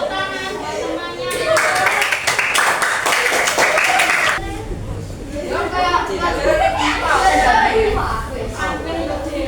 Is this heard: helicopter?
no